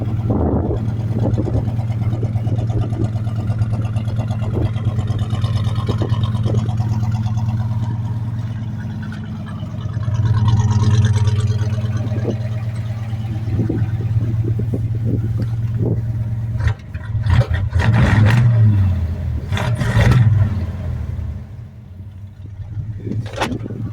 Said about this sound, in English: And there, now we're off of the choke and down to a nice idle.